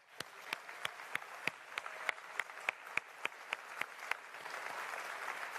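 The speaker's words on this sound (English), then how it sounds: "please give yourselves a huge round of applause." Applause from a live audience at a game company expo, with a steady wash of many hands. Loud sharp individual claps punctuate it in a fairly regular beat, and the crowd clapping swells toward the end.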